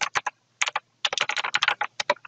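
Clicky keys on a computer keyboard pressed in quick irregular clusters, close and crisp, with brief gaps between bursts and no talking.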